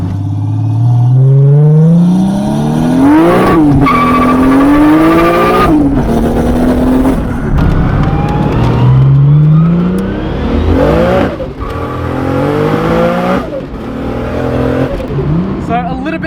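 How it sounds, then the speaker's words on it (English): A 600 hp Holden Commodore VL Turbo with a Nissan RB30 engine driven hard, revving up through repeated rising gear pulls with brief drops between shifts, loud and close from inside the car. "This car sports the RB30 engine built by Nissan"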